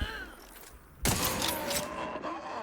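A video game shotgun fires with a sudden loud blast partway through, followed by sustained noisy rumble and clatter of gameplay action.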